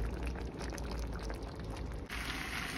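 Red wine poured into a pan while cooking beef burgundy, a short continuous splashing pour with bubbling liquid, close and steady, shifting to a brighter hiss near the end.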